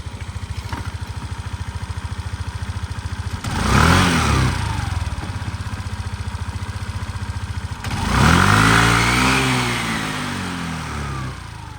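A Suzuki Address V125 S Limited Edition scooter engine idles steadily and close by, with two clear throttle blips that rise and fall back to a smooth, even idle.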